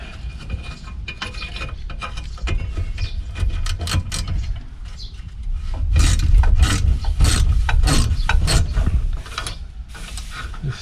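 A ratchet mechanism being removed in a workshop on a rusty Ford Sierra Sapphire gives off repeated clicking, rasping and rubbing clatter, louder in the middle stretch, with brushy sweeping noise in the background.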